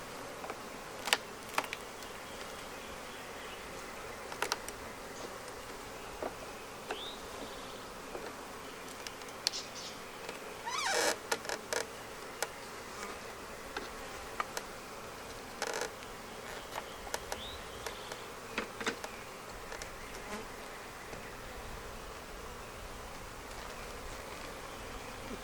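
Honeybees in a red Flowhive give off a faint, steady hum, broken by scattered light clicks and knocks from handling the hive.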